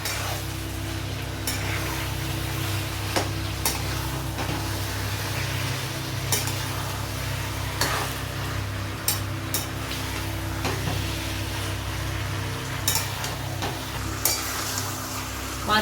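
Fried hilsa fish head stirred through a frying pan of taro leaves, with a steady sizzle and repeated scraping clinks of the spatula at irregular intervals, loud and close, with no talk.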